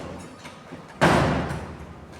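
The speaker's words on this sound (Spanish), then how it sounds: "Cierra la puerta" An indoor door in a classroom is shut with a single loud thud that rings out briefly and fades, preceded by quiet room noise.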